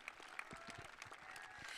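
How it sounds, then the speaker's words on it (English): Applause from a pickleball crowd at a national championship mixed doubles medal ceremony, honoring the silver medalists; steady, fairly faint clapping throughout, fading slightly, with no talk. "Another round of applause for your silver medalists, Catherine Parenteau and Ben Johns."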